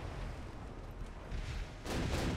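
Heavy naval gunfire in Ultimate Admiral Dreadnoughts booms and rumbles in a dense, continuous barrage, with a louder burst near the end; no talking.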